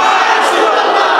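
A large crowd at a Bangla religious sermon gathering shouts the slogan Naraye Risalat in unison, a loud, brief, massed chant of many voices.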